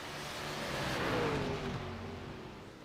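A race car in a sim racing game roars past during a drag race at Watkins Glen, the engine swelling as it nears and fading away, with a pitch sweep as it passes, short and fairly quiet.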